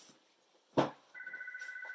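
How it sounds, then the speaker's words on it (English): A telephone rings in short steady pulses after a brief thump, fairly close and alone, near an old home computer setup with a VIC modem. "there's the phone, but I'm going to let it ring."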